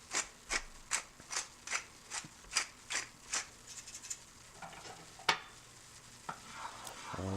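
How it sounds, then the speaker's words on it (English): A spoon works through a sauce in a pan in a steady rhythm of about a dozen sharp clicks and scrapes against the metal, close up, with a faint sizzle running underneath and no talk. "And keep on stirring."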